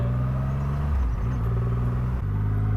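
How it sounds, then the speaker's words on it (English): The 2500cc engine of a Triumph Rocket 3 R motorcycle rumbles loud and close, its deep pulsing tone dipping and rising with small throttle changes, alone without voices. "You barely have to touch the throttle on this thing."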